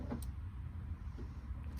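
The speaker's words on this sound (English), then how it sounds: "You could hear that click. The windows wanted to go, but then it wasn't communicating with the car." A Lexus LS430's power windows give two faint, short clicks about a second and a half apart, with a quiet background hum and no window motor running.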